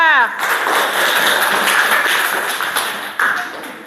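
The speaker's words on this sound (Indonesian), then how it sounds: "Kita kasih tepuk tangan buat kelompok 2." Students in a classroom clap for a group that has just presented, a short, bright burst of hand claps, close and fairly loud, fading out after a few seconds.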